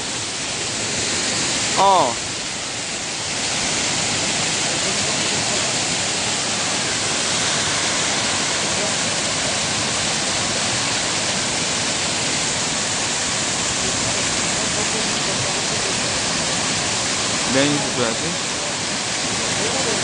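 Sojeongbang waterfall on Jeju pours in a constant, loud roaring rush, with brief voices heard over it near the start and toward the end.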